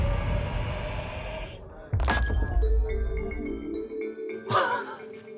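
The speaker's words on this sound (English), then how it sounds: "He said that a glass fell off the table without anyone touching it." A glass pint slides off a table and breaks, giving a sharp crash with a bright spray of shattering glass about a third of the way in and a second clatter of fragments near the end, all over steady room noise.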